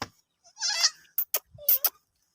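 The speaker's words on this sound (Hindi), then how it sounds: "ये वाली बकरी है" Goat bleating in a village farmyard, a few short wavering calls in close succession with brief pauses between them, fairly near and clear with no talk over them.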